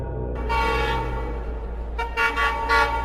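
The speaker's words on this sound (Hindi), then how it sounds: "तभी ट्रेन के हॉर्न की आवाज़ आई" A train horn sounds in a sustained tonal blast followed by a few shorter toots, moderately loud against a steady low rumble.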